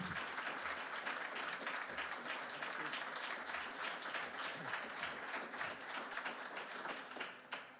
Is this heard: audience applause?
yes